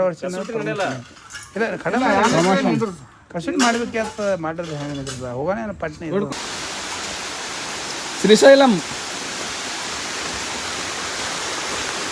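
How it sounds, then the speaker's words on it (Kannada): Water flows down at Siddharama pond in Srisailam as a steady, broadband rushing wash. It starts after a stretch of close talk and continues alone, with one brief clatter partway through. "ಇವೇ ನೀರು ನೋಡ್ರಿ ಕೆಳಗೆ ಹೋಗೋದು ಸಿದ್ದರಾಮ ಕೊಳ ಅಂತ್ರಿ ಸಿರಿಸಲ್ದಾಗ"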